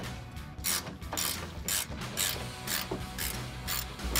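A hand ratchet loosening the headlight mounting bolts on a 2007-2013 GMC Sierra 1500, giving repeated bursts of sharp clicking in a steady back-and-forth rhythm, close and clear with no speech.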